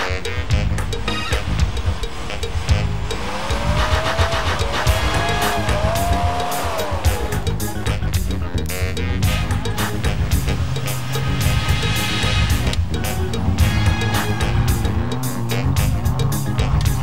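Rally 4x4 vehicles from the SIMEX Rain Forest Challenge 2001 drive along beach sand at Kuantan, their engines loud and continuous with rising and falling revs, occasional tire squeal and skidding throughout.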